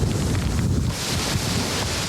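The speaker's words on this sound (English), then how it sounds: "the wind blew 120 miles an hour, with gusts to 140" Hurricane wind blowing at around 120 mph with stronger gusts during a nighttime storm, heard as a loud, continuous roaring rush with buffeting on the microphone.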